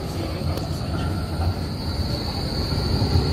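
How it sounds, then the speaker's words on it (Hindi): Rail traffic at Zurich's main railway station, a steady rumbling wash of trains and carriages with a faint high metallic squeal running throughout, close and continuous with no talk. "ये ज़्यूरिख रेलवे स्टेशन है।"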